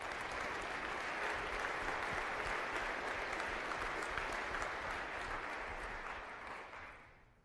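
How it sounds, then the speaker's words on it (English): A crowd applauds the police department at a city address, sustained steady clapping from a large audience that holds for several seconds before fading out at the end. "another round of applause for our police department"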